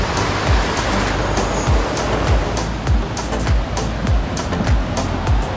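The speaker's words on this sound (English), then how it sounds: "Lots and lots of white water." Loud, steady rush of white water tumbling through a creek running high, a dense roar with repeated low thumping pulses underneath, close by with no voices.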